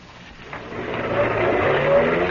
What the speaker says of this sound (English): Maxton's car whipped by.